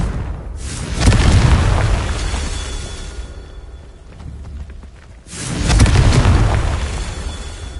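Two heavy booming fire-spell explosions in Hogwarts Legacy, each a loud burst with a long roaring decay, a few seconds apart with no talk.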